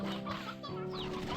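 Hungry backyard chickens cluck and squawk continuously at close range, several birds overlapping in a busy, fairly loud flock chatter with a brief wing flap.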